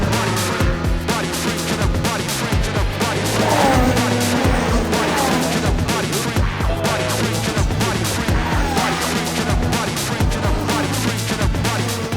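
Formula 1 race cars at the Monaco Grand Prix, engines roaring continuously with rising and falling pitch as cars pass and echo between buildings, loud and dense throughout with no speech.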